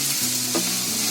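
Onion fries in a pan for a Konkani-style clams masala, giving a close, steady hiss of sizzling oil with a light stirring scrape partway through.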